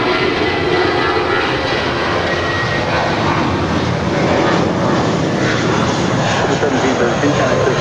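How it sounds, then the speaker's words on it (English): A FedEx MD-11 inbound from Memphis comes in to land on runway 25 left at LAX, its engines giving a loud, continuous roar close by. "FedEx MD-11 coming in from Memphis, about to touch down on 25 left."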